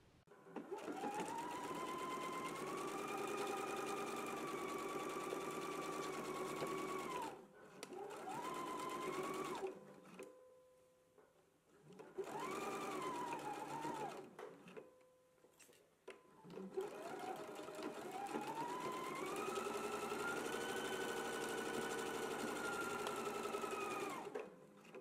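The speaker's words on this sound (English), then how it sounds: "I have my side seams sewn down to our marking, as well as the underarm seam that is sewn as well" A sewing machine stitches side seams on a garment, running in long steady whirring bursts with short pauses between them, close and clear, with no talking.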